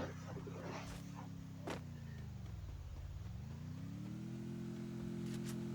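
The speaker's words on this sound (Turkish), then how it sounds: "Araba sesi geliyor buradan." A steady video-game car engine hums throughout, its pitch dipping and then rising again, with a few sharp clicks over the drone.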